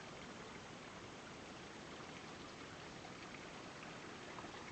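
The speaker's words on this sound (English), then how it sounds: "Don't you love that sound of trickling water?" Steady, faint trickling of a mountain creek near Mount Wilson and Cathedral Creek in the Blue Mountains, a continuous broadband wash of flowing water with no voices.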